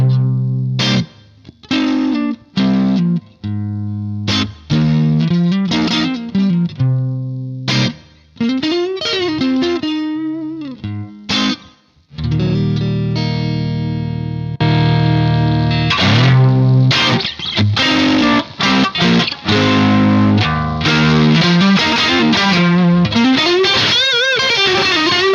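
Electric guitar on the neck pickup through a Marshall JTM45 amp, loud and overdriven, with strummed chords and picked riffs ringing out and sustaining, played alone with no talking.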